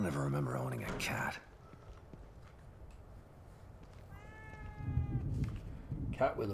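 A cat meows in The Evil Within 2, one short tonal call heard faintly midway through a quiet interior scene, with soft ambient game noise and louder bursts of sound at the start and end.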